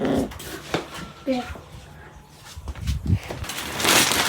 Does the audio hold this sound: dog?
yes